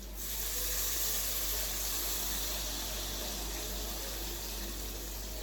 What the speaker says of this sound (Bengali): আবার এদিকে বাসনগুলোও মেজে নিচ্ছি একসঙ্গে সব